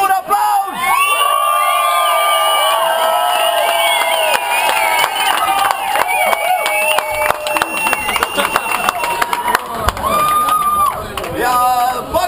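A large crowd at a venue opening cheers, whoops and shouts loudly and continuously, with clapping mixed into the roar.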